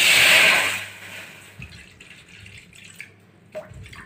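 Water pours briefly into a pan, a karahi holding chopped tomato, ginger, garlic and dried chilli for a tomato chutney, with a short splashy rush that fades into faint drips and clinks.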